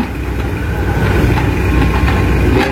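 A BMW car engine runs nearby during a demolition of illegal buildings in Bekasi, a steady, loud idling rumble with no voices over it.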